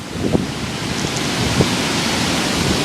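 Hurricane-force wind roaring with surf along the Isle of Man coast, a loud, steady broadband rush with gusting swells and no voices.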